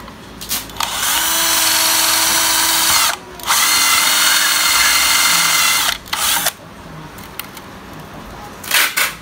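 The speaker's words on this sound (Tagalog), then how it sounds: "Ngayon may markings na yan, bubutasan ko na lang yan." A power drill bores holes into the case of a homemade 12-volt UPS for a router, in loud whining bursts of a few seconds each broken by short pauses, close up with no talking.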